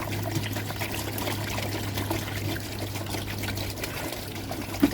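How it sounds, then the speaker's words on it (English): Water draining and trickling at a bridge under repair, a steady close wash of running water with a low constant hum beneath it and no voices. "Still seems to be draining"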